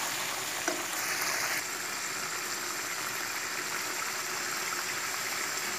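Tomatoes frying and being stirred in a pan, a soft continuous sizzle with faint scraping at the start, fairly quiet and steady with no talking.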